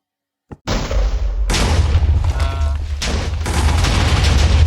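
Cannon fire in a video game: a sharp blast, then a sustained roaring barrage of booming gunfire and rumbling explosion noise that stays loud and close through to the end, with no talk.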